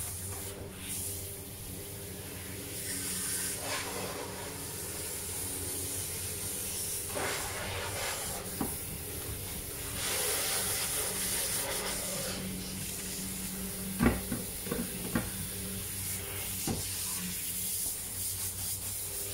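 Water sprays and splashes steadily during a home dog bath as the paws are scrubbed, a continuous close hiss with occasional rubbing and knocks, no speech.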